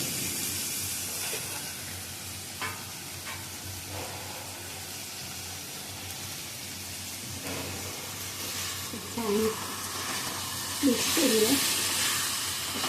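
Drumstick and potato bhaji with skin-on potatoes cooking in a pan, giving a steady soft sizzle with occasional stirring scrapes, while someone talks over it.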